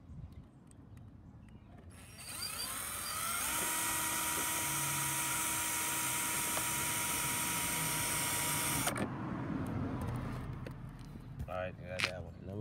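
A power drill bores a hole for a rear diffuser under a Dodge Charger Scat Pack, whining loudly at a steady high speed for several seconds before stopping, set against outdoor background noise.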